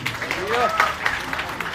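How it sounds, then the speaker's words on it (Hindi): Applause from the audience at a live music event in Patna: scattered clapping rolls on in the background while a voice speaks loudly over it. "जोरदार ताली बजा दो भाई।"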